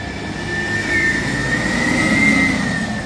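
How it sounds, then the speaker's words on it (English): A garbage truck engine rumbles steadily nearby as it passes, a broad low drone with a whining tone on top, growing slightly louder midway. "Dust cart going through."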